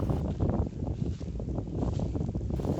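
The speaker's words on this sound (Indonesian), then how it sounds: "arah angin dari laut itu lumayan bertiup cukup" Strong sea wind gusting steadily across the microphone at Atok beach on Trikora, a broad continuous rush with rumbling low buffeting and no voices.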